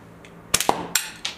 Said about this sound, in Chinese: 弹弓速射。